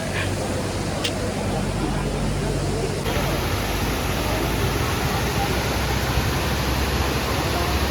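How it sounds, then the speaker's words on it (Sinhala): Ravana Falls near Ella pours down rock faces as a dense, constant roar of falling water, loud and unbroken throughout, with a brief change in tone partway through. "බලන්න අර පැත්තේ ගල් වලින් වෙනම වතුර පාරාල් වැටෙනවා"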